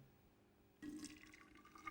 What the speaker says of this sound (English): Next, enough hot water to dissolve the sugar and coffee is added.